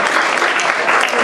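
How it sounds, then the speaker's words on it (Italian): An audience applauds Antonella at a book presentation, a dense, steady wash of many hands clapping close and loud, filling the whole brief moment without pause. "bel applauso Antonella, glielo facciamo"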